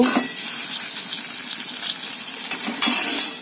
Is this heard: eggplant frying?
yes